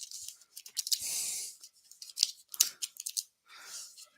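Playing cards being shuffled by hand to draw a racing starting grid, a run of crisp riffling, flicking snaps close to the microphone, irregular bursts with short pauses between.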